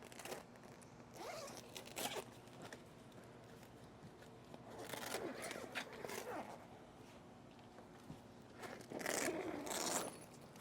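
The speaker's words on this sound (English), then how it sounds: "Zipper's on the other side." The zipper on a hitch cargo carrier bag being opened is heard in several raspy pulls with pauses between them, close and moderately loud, along with some fabric rustling.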